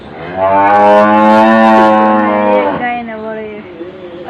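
A village cow lets out one long, loud, close moo that trails off into a softer lowing, with quieter background noise afterward.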